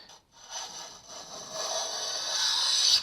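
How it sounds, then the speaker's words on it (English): Hand plane shaving along the center line of a guitar fretboard while radiusing it, a steady hissing scrape that builds over a continuous stroke and peaks near the end, close and alone. "what I'm doing is just following the center line of the fretboard with the plane"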